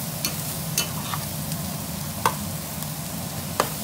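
Boudin and venison chili simmering in a pot, a steady low bubbling hiss broken by a few sharp utensil clicks and taps spaced across the stretch.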